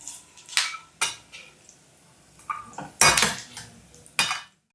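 Fried coconut pieces scooped from a pan into a bowl for coconut chutney, with a handful of sharp metal clinks and scrapes of a spoon against cookware at irregular intervals, close up, with no talking.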